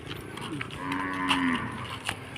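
A cow moos on a farm where livestock and pigs are kept, one drawn-out low call rising and holding for about a second, fairly close, over faint background noise with no talking.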